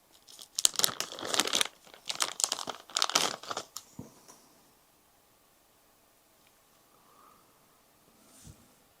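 A plastic bag holding a convertor mount and arm pillar collet crinkles and rustles in two bursts of handling over about four seconds, close and fairly quiet, then settles into near silence with a faint soft shuffle near the end.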